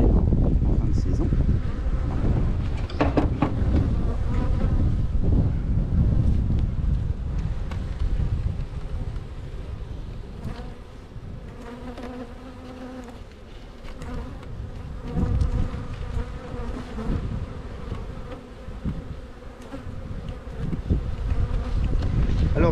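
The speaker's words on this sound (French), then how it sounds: "donc c'est un essaim que j'ai créé" Honey bees swarm and buzz around an open spring hive made from a split, a dense steady drone close to the microphone that runs throughout, with light wind rumble underneath.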